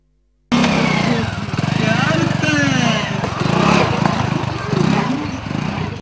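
A motorcycle starting up and running steadily as it is ridden with a passenger, its engine rumble loud and close for several seconds.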